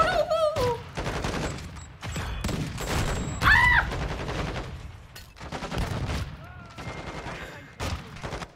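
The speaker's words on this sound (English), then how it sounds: "Wait, they just started shooting." Rapid rattling bursts of gunfire in Call of Duty: Modern Warfare 2, with sharp repeated shots packed closely together and keeping a steady pace throughout, plus brief faint voice-like sounds mixed in.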